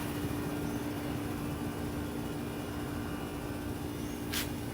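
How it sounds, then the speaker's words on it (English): A steady broadband hum and whoosh of an air conditioner runs continuously, with a brief faint hiss near the end. "Excuse the AC noise."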